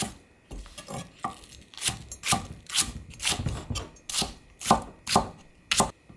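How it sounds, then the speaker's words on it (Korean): Green onion being sliced with a knife on a cutting board, about a dozen crisp, fairly regular chops close up, with no voices. "코다리 조림에 들어갈 대파인데요, 어서어서 썰어주세요."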